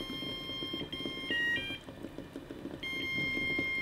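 An Elvis novelty egg timer plays Viva Las Vegas in thin electronic beeping tones, faint over kitchen background noise, with notes that stop and restart.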